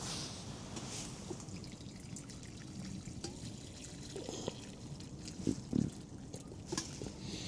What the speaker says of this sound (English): We're going to pour the rest of that hot water in it.